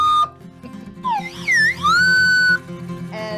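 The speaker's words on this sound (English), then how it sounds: "whistle, folks." A bright slide whistle rises and falls in pitch, swooping in several glides over a steady low background hum, fairly loud and close.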